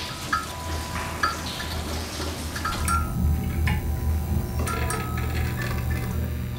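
Closely miked fluorescent lights flicker, recorded for the sound design of the thriller film Panic Room: a steady low electrical hum and buzz with irregular clicks and ticks scattered through it, close and continuous with no talking.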